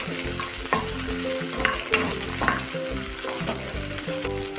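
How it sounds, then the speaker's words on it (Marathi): Garlic sautés in hot oil alongside fried green chilies, a close, busy sizzle with spatula stirring and scraping throughout and faint tonal background music, with no talking. "आता यामध्ये आपण लसूण घालूया। लसूण ही तेलात चांगला परतून घेऊया।"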